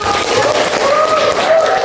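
A group claps for someone at a gathering, a dense, steady wash of applause lasting about two seconds with a faint tonal whine running through it.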